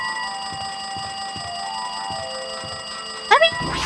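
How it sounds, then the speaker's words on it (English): In the video game Danganronpa 2, a phone rings with a shrill electronic trill that repeats in a steady rhythm. A short, brighter chime cuts in near the end. "It's definitely the phone that's ringing."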